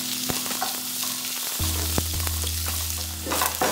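Onion sizzles steadily in hot oil in a home kitchen pan, a bright continuous crackle with a few stirring knocks and a low hum running beneath.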